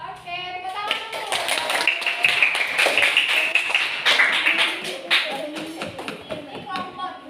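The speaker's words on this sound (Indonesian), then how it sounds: "Oke, tepuk tangan dulu." Classroom clapping from a group of pupils, dense overlapping claps that run steadily for several seconds at moderate loudness, with children's voices mixed underneath.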